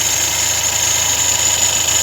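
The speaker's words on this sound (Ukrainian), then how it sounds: "Мотор холодный, тільки завів, сразу скинул обороты" A VAZ 21083 car engine idles cold just after starting, following a full cylinder head overhaul, with a steady loud rumble and a constant high whine running throughout, no voices over it.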